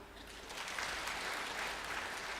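Clapping from the audience at an inauguration ceremony for a regional religious organization's board, a brief, moderately loud burst of many hands that swells slightly and holds.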